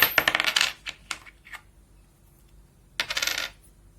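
Dirty, rusty coins found in the sea are dropped into cleaning liquid, making a quick clattering jingle of metal on metal, a fainter clink or two, then another short rattle, close and clear with no talking.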